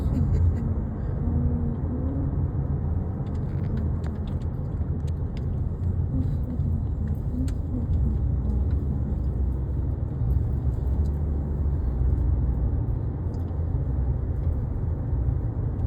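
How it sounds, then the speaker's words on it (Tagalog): Steady low car engine rumble inside a tunnel, continuous and fairly loud throughout with no clear talk over it. "Ang kotse."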